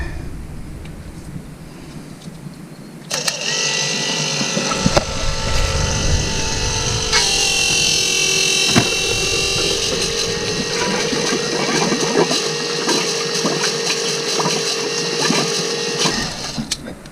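A 12 volt oil pump wired straight to battery leads starts after a few seconds of quiet, then runs loud and steady with a close motor whine and mechanical rattle.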